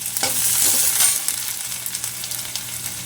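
Finely chopped onion and cumin fry in two spoons of oil in a kadhai, making a loud continuous sizzle with spatula stirring, strongest at the start and then settling a little.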